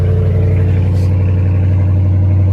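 Dodge Challenger R/T idling with a modified muffler, a loud, deep, steady exhaust rumble with a strong low throb that holds constant throughout, close to the car.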